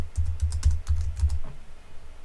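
Rapid typing on a new computer keyboard with German-style key layout, a close, steady run of clicky keystrokes in quick bursts, then a brief pause and a final few taps, with no voices.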